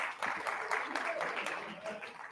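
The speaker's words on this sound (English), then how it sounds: "Clap for them." Applause from the audience at a poetry slam, a continuous patter of many hands clapping at moderate distance, fairly even throughout with soft murmurs underneath.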